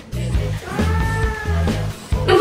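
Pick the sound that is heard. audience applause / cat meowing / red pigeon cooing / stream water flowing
cat meowing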